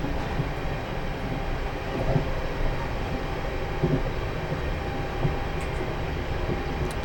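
A Class 450 electric train runs on the Portsmouth Direct Line in Train Simulator 2020, a steady, dense rumble of wheels and motors with faint periodic rail clicks throughout.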